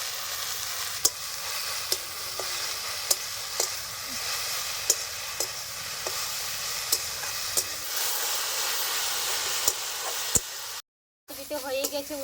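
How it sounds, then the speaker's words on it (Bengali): Nali leaf greens frying in a pan with turmeric and dried chilli powder, a steady close sizzle with sharp periodic taps of stirring, a brief dropout near the end, and a voice speaking over it. "দিয়ে দিচ্ছি হলুদ গুঁড়া, দিয়ে দিচ্ছি শুকনো লঙ্কার গুঁড়া, আমি দিয়ে দেবো স্বাদ মতো লবণ।"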